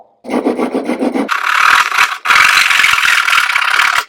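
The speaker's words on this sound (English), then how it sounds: "I'm going to be using a handsaw." A handsaw cutting through a wooden board, starting with quick short rasping strokes, then longer, louder sawing strokes close by, with a brief pause between them and no talk.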